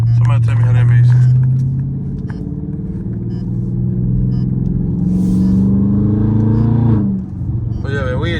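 Dodge Scat Pack V8 engine rumbling steadily in traffic, heard from inside the car with the windows up, a loud low drone that swells and settles over several seconds.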